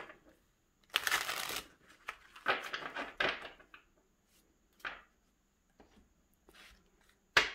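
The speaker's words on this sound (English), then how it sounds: "Let me shuffle these ones that might be called in to assist." Playing cards shuffled in a few crisp bursts, close and fairly loud, separated by quiet gaps and small tapping sounds.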